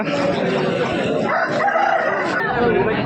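Chickens and roosters crowd a busy poultry market in J Mamidada before a festival. Crowing and clucking rise from a dense, continuous din of birds and people talking nearby.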